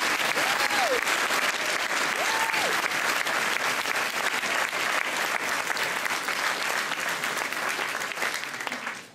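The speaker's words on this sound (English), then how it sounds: "So please, a round of applause for all those." Audience at a school certificate presentation applauding, sustained dense clapping throughout with a few faint voices mixed in, fading at the very end.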